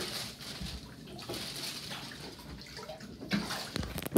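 Water sloshing in a bath as ice is added, soft splashing and rippling with a few small knocks, fairly quiet and close.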